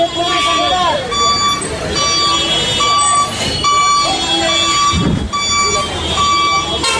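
A fire brigade truck being moved aside at a hotel fire scene, its reversing alarm beeping in a steady repeating pattern, loud and close, while people talk over it amid street noise.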